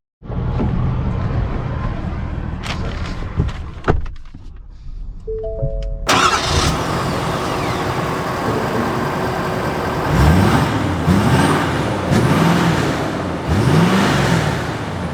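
A 2021 Ford F-350 Platinum pickup truck starts up after some handling sounds, then its engine idles and pulls away with a loud, steady drone that rises and swells as it accelerates.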